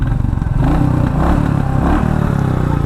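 A Royal Enfield Classic 350 motorcycle engine growls steadily up close, a loud low thumping rumble with a rough pulsing beat and some mechanical clatter, continuous throughout with no voices.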